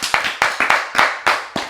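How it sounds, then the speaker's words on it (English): Several sharp hand claps in an uneven rhythm, about eight distinct slaps close to the microphone in a small podcast room, with no talk over them. "Everybody's clap it up for George."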